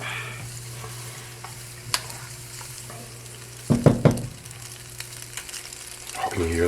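Fried noodles and meatballs sizzle steadily in a hot pan, a constant hiss with a few clattering scrapes of stirring in the middle and a brief voice near the end.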